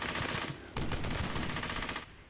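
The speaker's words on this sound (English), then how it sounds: "Oh, there's another MG." Machine gun fire in the Brothers in Arms: Hell's Highway video game, sustained rapid bursts that jump louder partway through and then cut off, loud and close with no talking.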